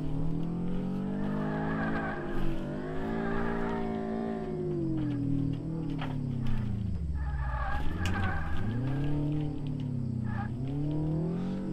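A car drifts in the racing simulation DRIFT21, its engine rising and falling through revs while the tires squeal and skid in long, sweeping slides, loud and continuous throughout.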